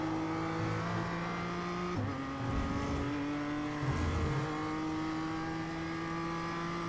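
Race car engines on a circuit lap in a racing video game, a loud sustained buzzing engine whine with steady tones that dip and climb through gear changes, close and continuous without talk.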